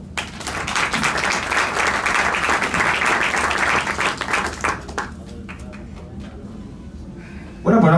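An audience applauds at the Escriduende 2024 awards ceremony in the Casino de la Gran Vía, Madrid: full, sustained clapping for about five seconds, then thinning to a few scattered claps before a brief louder noise at the close.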